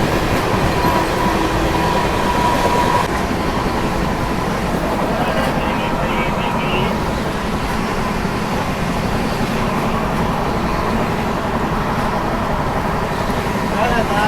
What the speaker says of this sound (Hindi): अभी यशवंतपुर जबलपुर एक्सप्रेस को अपनी तमिलनाडु एक्सप्रेस ओवरटेक मारने वाली है